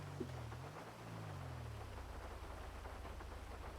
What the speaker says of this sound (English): Right now, in the middle of the night, whilst it's raining.